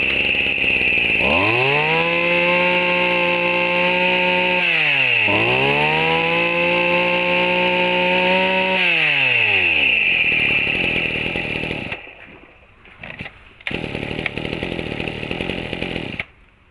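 A small two-stroke chainsaw, a Maru 23 with a 32 mm cylinder and 23 cc engine, runs loud and close, revving up twice and then holding a steady high idle before a brief drop and a return.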